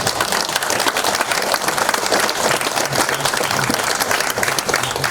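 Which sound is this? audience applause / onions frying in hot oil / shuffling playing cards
audience applause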